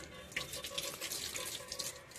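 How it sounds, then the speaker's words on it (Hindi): Water runs steadily from a tap for watering plants, a continuous close splashing hiss with no pauses. "पौधों में पानी देना है"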